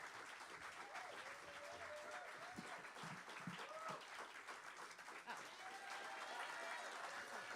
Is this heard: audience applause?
yes